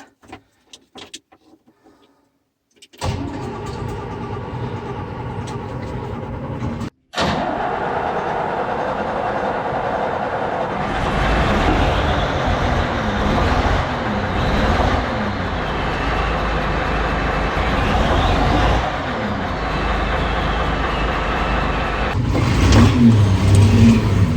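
A diesel articulated dump truck engine, being started with ether, catches after brief cranking and settles into a loud, steady, close-up rumble, with a short cut-out before it resumes and holds a strong idle.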